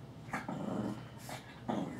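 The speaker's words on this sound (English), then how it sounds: "Sorry, my dogs are fighting behind me." Dogs play fighting nearby, with repeated low growls and snarling bursts in a rough, uneven rhythm, loud and close throughout.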